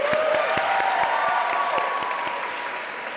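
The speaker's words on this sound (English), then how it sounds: "So can we get a round of applause for our university president," Sustained applause from a seated audience for a university president at a student government election event, steady dense clapping with a faint held tone underneath, fading slightly toward the end.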